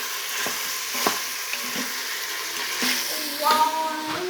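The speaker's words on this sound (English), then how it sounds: "First, we have to cook the meat." Meat browns in an Instant Pot for chili, a continuous sizzle broken by scraping stirs and spoon knocks, with a soft voice in the background.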